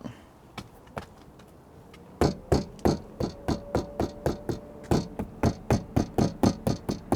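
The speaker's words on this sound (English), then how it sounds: "the rear window rattles when we're driving" The loose rear window of a Tesla rattles in close, sharp knocks. A few scattered ones give way to a fast, regular series of clacks.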